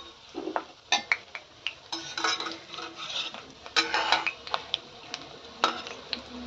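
Bhaji fritters being flipped in shallow oil for a Navratri offering, with a run of sharp metal spatula clinks and scrapes against the pan over a faint, low sizzle.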